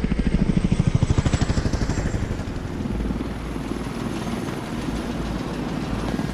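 A helicopter in the video game Batman: Arkham Knight flies close by with a loud, steady rotor chop and engine drone that pulses rapidly at first and then settles into a continuous whir, with no talk.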